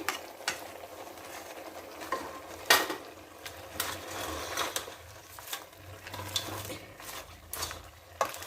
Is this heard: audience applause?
no